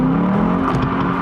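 A modified Lexus ISF engine revs under a bit more throttle, a close, raspy rising growl that holds steady and loud through the brief stretch.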